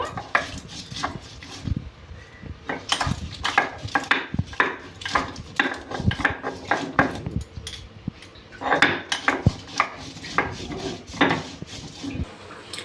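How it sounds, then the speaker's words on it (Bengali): Green chilies half-crushed for a bottle gourd leaf curry, heard as close, irregular knocking and scraping clatter with short sharp impacts, steady throughout and with no talk. "আমি কাঁচা লঙ্কাটা আধা বাটা করে দেব, পুরা বাটবো না, আধা বাটা করে দেব"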